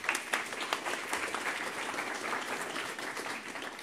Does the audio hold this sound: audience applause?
yes